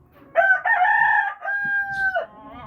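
A green jungle fowl crows once, loud and close, in a short two-part call with a harsh first phrase and a long, even, drawn-out second note, played from a recording.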